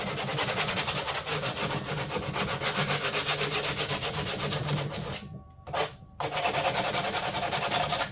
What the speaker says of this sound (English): I call this just giving it a safety sand, because fiberglass is fine, nasty stuff